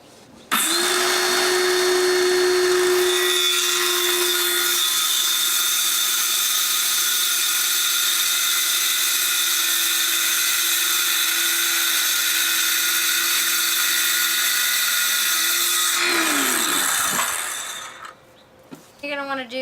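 A power saw cuts plywood for a bench, a steady high whine running loud and unbroken for about sixteen seconds before winding down and stopping.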